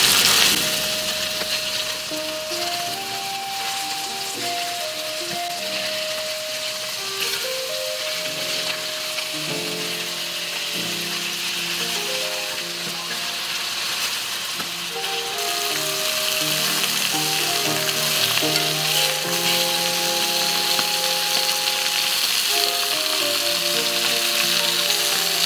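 Beef sears in hot oil for boeuf bourguignon with a loud, continuous sizzle and crackle, steady throughout, while faint tones hum in the background.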